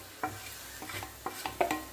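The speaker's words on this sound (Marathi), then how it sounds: "थोडंसं मिक्स करून घेऊया" Roasted spices are stirred in a hot pan with a spoon, giving a handful of quick, close scraping strokes in an uneven rhythm over a faint sizzle, with no talking.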